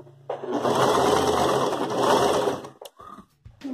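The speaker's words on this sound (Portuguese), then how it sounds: "Deixa eu fazer agora, ó, passar a costura." A sewing machine sews a ruffled sleeve onto a garment in one close, continuous run of rapid stitching lasting a couple of seconds. It then stops, and a few small handling clicks follow.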